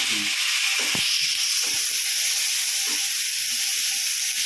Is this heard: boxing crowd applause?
no